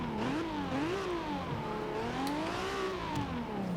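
A 1995 Toyota Supra RZ in Forza Horizon 2 hums along with a steady engine drone whose pitch rises and dips as the throttle shifts, smooth and continuous, heard from inside the car at moderate level.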